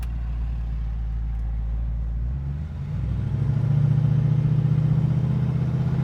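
A 1965 Ford Mustang engine running at a steady low idle, then picking up into a stronger, rougher rumble partway through, close and loud with no talk.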